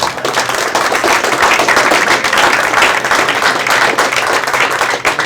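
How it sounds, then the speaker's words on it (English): Loud, dense applause from a crowd at a high school signing day ceremony, continuous clapping at close range that holds steady throughout without pause. "give a round of applause"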